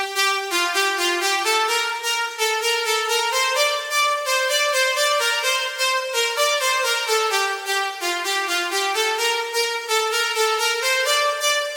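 A dry, high synth lead with no attack plays a bright, buzzy melody of steady, even notes in a progressive house style, loud and alone for several bars.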